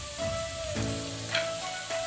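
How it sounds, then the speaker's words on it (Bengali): Chopped onion sizzles in hot mustard oil in a wok, with a steady crackling fry and a couple of brief clinks or stirs, close and moderately quiet. "এবার পেঁয়াজ কুচিটা দেবো।"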